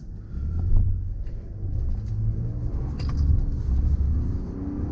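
A 2020 Buick Enclave ST AWD drives a twisty handling loop, its engine and road rumble steady and low with swelling acceleration and light wind noise, no talking.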